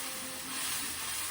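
Mashed, chopped garlic sizzles in a hot pan, a dense, even hiss that stays close and steady throughout, with no one talking.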